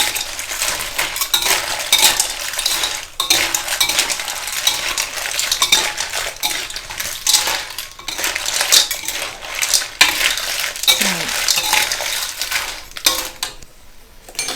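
Clams are stir-fried in a pan with chili paste, a steady run of metal utensils scraping and clattering against the pan over soft sizzling, with no voices.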